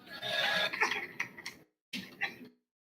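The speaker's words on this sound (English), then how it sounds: "He's coughing up blood." Several harsh coughs close by, one bout followed by a brief pause and a second shorter burst.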